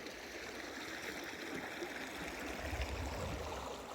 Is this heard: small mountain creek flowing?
yes